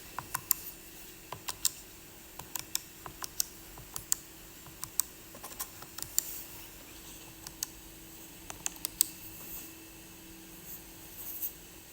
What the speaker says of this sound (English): let you see what it looks like when we type it in the calculator